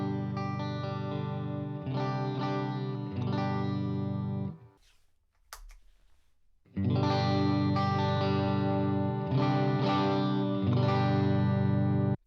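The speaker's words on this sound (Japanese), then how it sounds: "キーリーを加えることでちょっと元気できらびやかなクリーンサウンドにしてあげるみたいな感じで使ってます" Electric guitar played clean through a Keeley clean boost compressor pedal, giving a bright, lively tone with sustained strummed chords that stop briefly for a quiet gap, then ring out loudly again.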